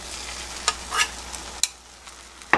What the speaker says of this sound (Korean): 그리고 다시 또 계란물을 넣어줍니다